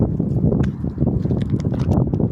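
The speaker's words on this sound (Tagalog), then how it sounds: "super mahangin talaga dito" Strong gusts buffet the microphone in a steady, rumbling roar that rises and falls without pause, with faint rustling on top.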